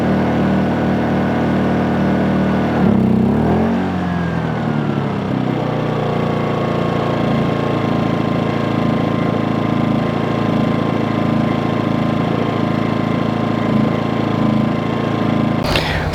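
A Predator suitcase generator from Harbor Freight runs close by with a steady droning hum. Near the start it briefly labors and shifts pitch, then holds a constant engine tone for the rest, with no one talking.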